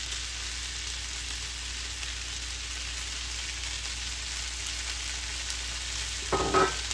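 Steady sizzling of fried rice in a hot pan as Shaoxing cooking wine goes in, an even frying hiss throughout, with a brief clatter near the end.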